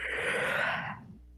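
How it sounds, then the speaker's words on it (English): A person yawns once, close and fairly loud: a long breathy, airy exhale that swells and then trails off into quiet. "There's a yawn."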